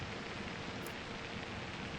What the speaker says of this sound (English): raining at the moment